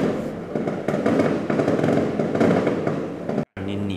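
Firecrackers go off in a dense, loud burst of rapid bangs and crackles from a building's lower floor, continuing for several seconds before cutting out briefly near the end, with no talking.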